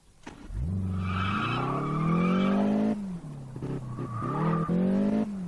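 In the racing video game Test Drive Unlimited, a car engine revs up loudly with a rising whine, then tires squeal through a long skid, followed by further revving and sliding.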